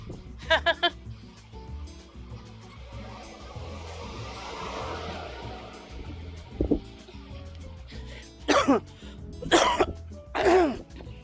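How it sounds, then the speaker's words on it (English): A quick pair of coughs at the start, then after a quieter stretch several more harsh coughs close by, loud and uneven. "I started coughing again."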